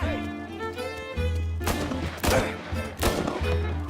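Gunfire in the Mafia video game, several loud sharp shots in quick succession over the game's background score and effects, close and punchy.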